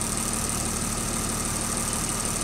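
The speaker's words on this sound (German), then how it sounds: "Wir laufen jetzt gerade auf Gas so." A car engine converted to run on LPG idles steadily at about 750 rpm, a close, even mechanical hum with a constant whine and no voices.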